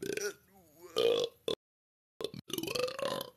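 Loud, drawn-out burps spelling out a person's name after drinking a flavored Coke, two throaty belches split by a brief pause, close to the mic.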